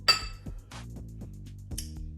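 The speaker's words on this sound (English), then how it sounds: "We're gonna add 4 cloves of garlic right into the blender." Garlic cloves drop into a glass blender jar, making several sharp glassy clinks and taps spaced across two seconds. The sounds are close and fairly quiet, with no speech.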